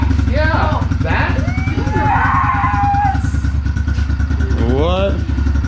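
A dirt bike engine revs steadily and loudly throughout, a continuous mid-pitched drone, with people talking and calling out over it.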